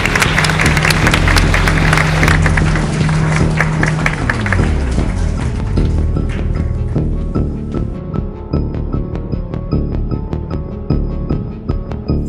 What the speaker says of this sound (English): A big clap for Josh.